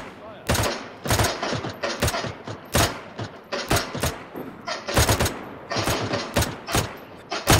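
Soldiers in DayZ fire on infected with dense, loud bursts of automatic gunfire in rapid irregular volleys, sharp cracks following closely one after another, with mechanical clatter between shots.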